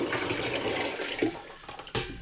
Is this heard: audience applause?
no